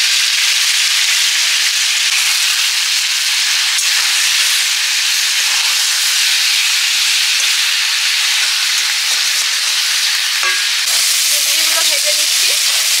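Chicken pieces fry in hot oil, a loud, steady crackling sizzle that fills the whole stretch close up, with a few faint clinks near the end.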